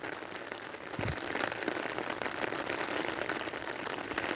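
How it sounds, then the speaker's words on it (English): Steady broadband rain from a tropical storm over South Florida, a continuous hiss of heavy rainfall on surfaces, fairly loud and even throughout with no voices. "we have a tropical storm above us, covering most of South Florida."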